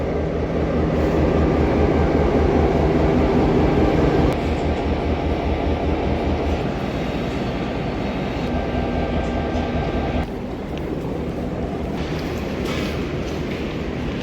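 Sydney train, engine number 42105, rumbles and hums steadily at close range, a loud continuous drone with shifts in tone partway through.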